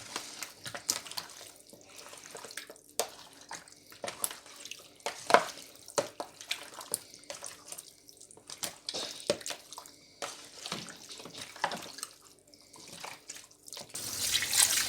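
Raw chicken, about 1 kg, being washed under a running kitchen tap, with water splashing and trickling in irregular bursts at moderate volume and no speech.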